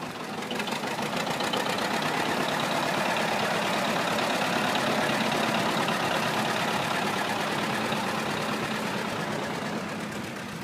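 A small gasoline pony engine runs to warm up a diesel tractor engine, a continuous close, rapid knocking chug at a steady level with no voices.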